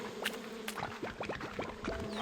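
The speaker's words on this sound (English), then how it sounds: "Ooh, there's some bees." Bees buzzing in the video game Slime Rancher, several short swooping drones passing close over a steady game ambience hum, with no voices.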